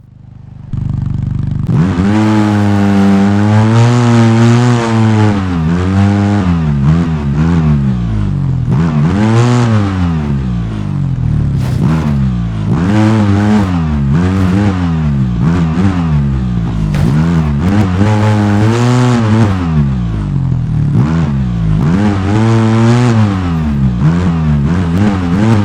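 A vehicle engine in the video game Overpass revs repeatedly, rising and falling in pitch in loud, sustained bursts that continue through the whole stretch.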